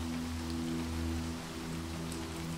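Steady rain pelting a garden of topiary and grass on a stormy night, a continuous even wash of falling water with a low rumbling bed beneath, no voices.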